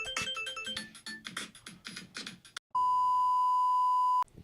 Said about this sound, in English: it's my ringtone.